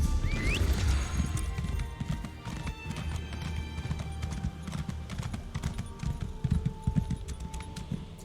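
Horse hooves clopping near a stable in the video game Elder Scrolls Online, a steady run of close hoof beats with a brief whinny at the start and game background sound underneath.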